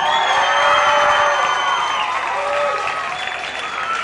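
Live concert crowd at Lille Vega cheering and applauding for a vocal group, loud and close, with whoops and shouts over dense clapping that eases slightly toward the end.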